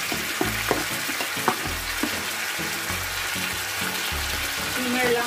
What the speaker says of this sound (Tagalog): Simmer lang para hindi masunog.